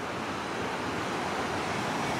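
River water rushing steadily through a rocky gorge, a continuous broadband roar with no voices, close and even throughout.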